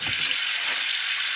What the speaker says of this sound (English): I'm going to get boiling hot water, or just hot water.